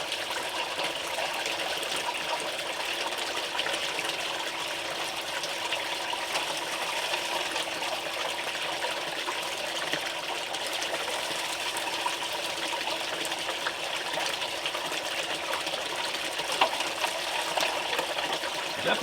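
Water rushes steadily through a gold prospecting sluice, a continuous bright gushing and splashing that holds an even level throughout with no voices.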